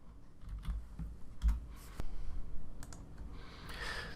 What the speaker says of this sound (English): I'm going to go up to the address bar and type in the following address